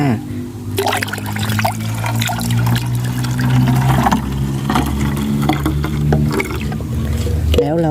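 Homemade pest spray mixture being scooped and poured into a Foggy sprayer bottle, with liquid trickling and splashing close by while someone talks over it.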